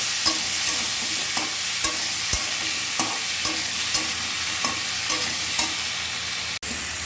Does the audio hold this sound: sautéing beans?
yes